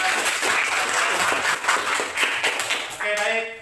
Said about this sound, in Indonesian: Beri aplaus juga.